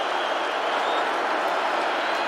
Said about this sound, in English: First home game of the year at the JMA Wireless Dome, and the crowd coming to life.